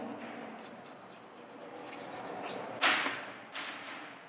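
Someone writes on a board during a lesson, making short scratchy strokes that grow louder and sharper near the end, with a couple of distinct squeaky strokes standing out.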